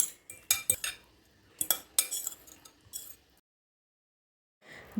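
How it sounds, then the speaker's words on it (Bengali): A utensil clinks and scrapes against a bowl while mixing cold Bengali-style pasta with mustard paste. Quick, bright clattering strokes come close and in bursts, then stop into silence. "এখন সবগুলোকে ভালোভাবে মিশিয়ে নিচ্ছি"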